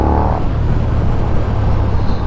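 KTM SuperDuke 1290 motorcycle pulling hard in third gear near 4,000 rpm, a loud, steady, deep engine drone with a rising whine at the start, heavy wind rush throughout, heard from the rider's position.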